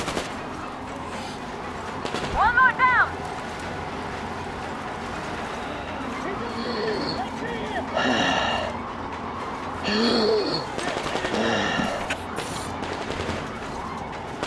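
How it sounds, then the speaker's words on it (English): Scattered gunfire in the post-apocalyptic shooter Metro Exodus crackles in short bursts and single shots at a middle distance, with a person talking over parts of it. "So much shooting, and I don't see anybody."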